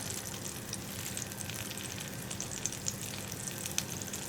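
Ginger, garlic and green chilli fry in coconut oil with a steady, close sizzle, a continuous crackling hiss throughout with a few sharper pops.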